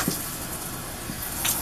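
A detachable shower head sprays water onto a shower floor, giving a steady, even rushing hiss that stays constant throughout, close by with no voices.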